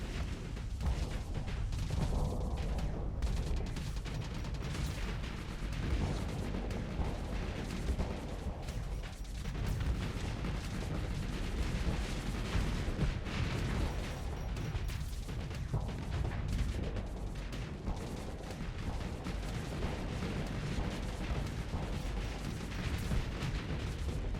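Reaper weapons fire during a space battle in a video game, a dense, continuous stretch of booming shots and crashing impacts layered over a constant roar.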